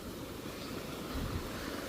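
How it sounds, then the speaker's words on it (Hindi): Small waterfall in a rain-swollen mountain stream in the hills during the monsoon, a steady rushing splash of falling water heard up close with no voices. "एक छोटा सा झरना जैसा बन गया।"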